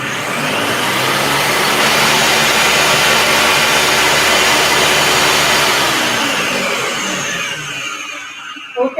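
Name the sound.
Ninja blender blending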